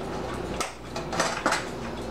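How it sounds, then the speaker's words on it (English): A metal springform cake pan is latched shut and released in a kitchen, giving a few short, soft metallic clicks and clanks spaced under a second apart against quiet room noise. "closing the pan goes like this, and opening it goes like this"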